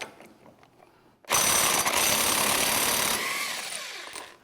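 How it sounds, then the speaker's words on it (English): A power tool, likely an impact wrench, removes the axle hub nut on an ATV in a loud, steady burst of about two seconds that stops abruptly, with quieter mechanical clicks and handling noise before and after. "Now I'm going to remove the nut holding the hub on."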